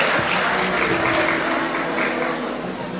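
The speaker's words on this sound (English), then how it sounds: "may we clap the hands for them as they are taking a photo" An audience of colleagues at an education district awards function claps for teachers as they pose for a photo, producing loud, dense, continuous applause that fades slightly toward the end.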